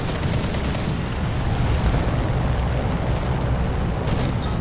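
Bomber gunners fire in the War Thunder game over a dense, loud, continuous low rumble of engine and gunfire that carries on without breaks, with no talk.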